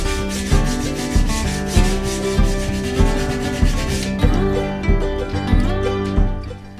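A rasp works spruce and mahogany wood strips on the front deck of a DIY strip-built kayak. The strokes are loud, rhythmic and rough, repeating about once every second up close, with no talk.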